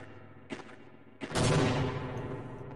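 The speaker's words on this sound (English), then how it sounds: "I gotta make some noise with my grenades to the other direction." Grenades exploding in the 1999 shooter Half-Life: Opposing Force: two short thuds, then a loud, close blast that rumbles on and slowly fades.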